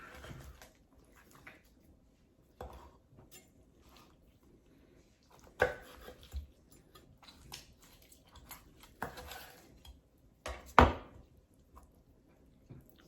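A large knife cuts through a smoked whole chicken from a Weber Smokey Mountain, giving sparse, irregular crunchy chops and thuds with quiet gaps between them, close and fairly soft.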